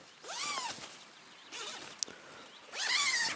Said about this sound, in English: Nice easy zips on the inside as well